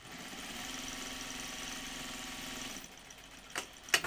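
A sewing machine top stitches the hem of pajama bottoms in one steady mechanical whir for a few seconds, then stops, followed by a couple of faint clicks and knocks.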